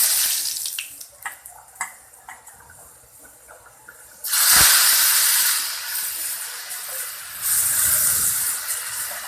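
Chopped banana flower and chickpeas dropped into hot oil in a pan: after a quiet stretch of small clinks, a sudden loud, sustained sizzling hiss bursts in and keeps going, swelling again near the end.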